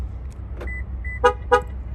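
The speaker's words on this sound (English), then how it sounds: "Okay, you got the two chirps." A 2019–2020 Toyota Camry's remote alarm gives two short, sharp horn chirps in quick succession on unlock, close by over a low idling rumble.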